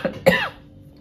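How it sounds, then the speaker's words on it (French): A short double cough from someone speaking indoors, close and clear, trailing into a brief throaty rasp and then quiet. "Excusez-moi, une petite toux qui vient à force de parler peut-être."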